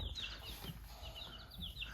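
Baby chicks in a new coop make soft, high chirping and peeping calls, several quick repeated peeps over a low background rumble, no voices.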